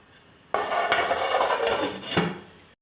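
A metal lid clanks down onto a cooking pot of chickpea pulao, with a bright clatter, a short rattle as it settles, and another knock near the end.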